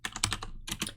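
Several quick keystrokes on a computer keyboard while code is typed, in a short, close burst of clicks.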